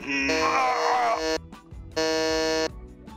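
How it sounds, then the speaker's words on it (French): A quiz game buzzer sounds in two loud, harsh electronic blasts, the first overlapped by a strained wailing voice, with a short gap between them. "Un petit test de buzzer."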